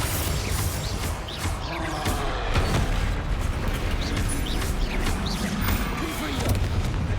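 Bombarda blasting spells from the Hogwarts Legacy video game go off amid busy combat, with repeated booming explosions and crashes over a dense, constant din of game action.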